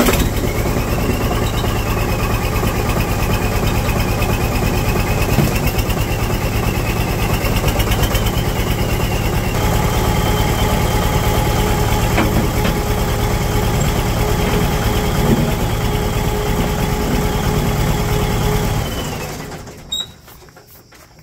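A Massey Ferguson 461 tractor engine runs close and loud at a steady idle for about nineteen seconds with a constant diesel rumble, then winds down and shuts off, followed by a brief clunk.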